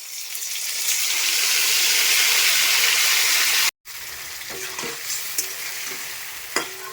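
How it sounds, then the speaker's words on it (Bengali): Ground spice paste fries in hot oil for a fish curry, giving a loud, rushing sizzle that cuts out briefly, then returns slightly softer with occasional spoon knocks from stirring. "মশলাটা ভালো মতো ভাজা হয়ে গেছে, এই মশলা থেকে তেল ছেড়ে দিচ্ছে বন্ধুরা"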